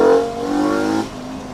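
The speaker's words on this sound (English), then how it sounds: "that whining noise is definitely something in the trans" A hard-driven Mk2 GTI with a swapped-in 5-cylinder engine, running a junkyard transmission on old gear oil, revs loudly under acceleration with a tonal whine riding over the engine note, then eases off after about a second.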